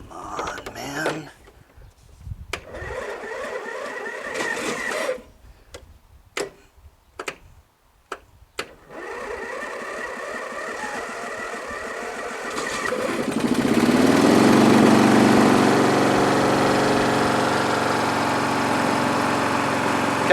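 A riding lawn mower engine is cranked with several short tries among clicks and handling noises, then catches and settles into a steady, moderately loud idle rumble.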